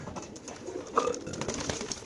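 Racer pigeons coo softly in a loft, with a brief clearer call near the middle over a steady low bustle of birds and no talk.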